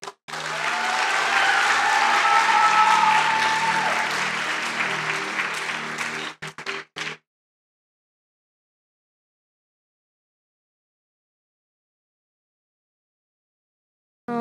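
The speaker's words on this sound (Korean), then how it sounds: "박수로." A church congregation applauds at a Sunday evening baptism service, loud sustained clapping for about six seconds that fades out, then silence.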